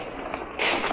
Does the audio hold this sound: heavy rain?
no